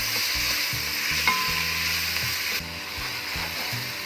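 Tomatoes frying with softened onions in a pan for a Gujarati khichdi, giving a steady close sizzle with occasional stirring scrapes throughout, and no talking.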